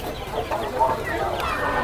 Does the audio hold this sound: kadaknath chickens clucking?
yes